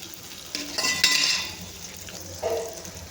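Turmeric cooks in hot oil under a soft sizzle, broken by a couple of scraping stirs and a light clink of a utensil against the pan, close and fairly quiet.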